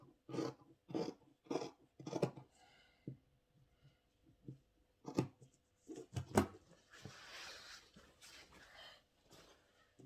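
Scissors cut fabric for a neckline facing, giving a series of quiet, crisp snips in short irregular bursts with pauses between them and a soft rustle of cloth.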